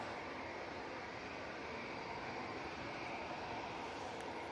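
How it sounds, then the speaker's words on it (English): An easyJet Airbus A320neo airliner bound for Oslo at Manchester Airport gives off a steady, broad engine roar throughout, a continuous rumble with no break and no talk over it. "Easyjet. Now coming on. A320 Neo."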